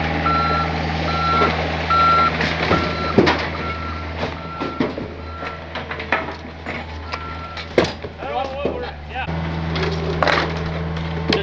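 A small flatbed truck backs up at a forest cleanup site, its reversing beeper pulsing steadily and loudly over an idling engine, with wood cracking and crunching throughout.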